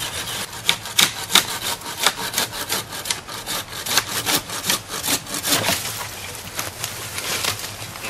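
A bow saw cuts through freshly coppiced wood for yurt poles, with rapid, steady back-and-forth rasping strokes, close and fairly loud, continuing without pause and with no talking.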